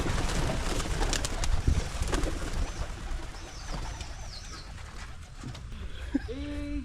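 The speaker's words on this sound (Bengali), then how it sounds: "এগুলো সব পায়রার বাসা করা আছে" Pigeons nesting in broken clay pots in Purulia give soft, repeated coos in short bursts over a muffled outdoor background, with faint low voices nearby.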